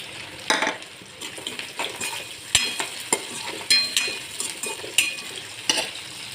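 Tomatoes go into a frying pan for a tuvar shaak and get stirred: a steady sizzle broken by sharp clinks and scrapes of a spoon against the pan at irregular intervals, with no voices.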